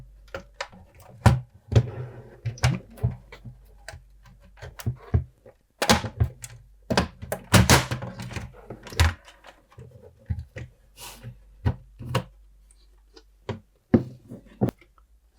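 Plastic tabs of an Amstrad GX4000 game console case snap and click as they are pried open, a series of sharp, close knocks and cracks in irregular bursts with quiet gaps between.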